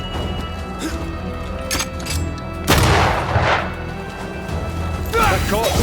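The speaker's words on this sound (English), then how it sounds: "That corpse is gonna shoot." Gunshots fired by a corpse in the video game Banishers: Ghosts of New Eden: a loud booming blast in the middle with heavy crashing impacts around it, over a steady game background.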